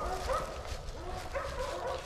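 Dog barking during a hog hunt, several close, sharp barks and yips in a quick irregular series over rumbling background noise.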